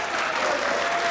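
Studio audience applause on a Pakistani comedy talk show, a dense, steady wash of many hands clapping at once, loud and continuous with no voices standing out.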